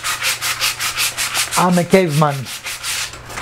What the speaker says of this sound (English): a little bit of sanding is required